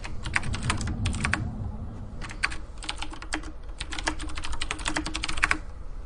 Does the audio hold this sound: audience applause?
no